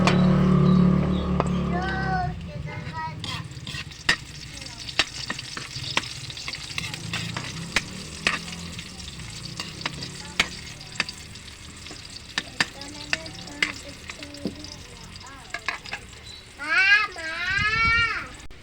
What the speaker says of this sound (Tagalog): Maggisa na tayo ng bawang. Lagyan natin ng sibuyas.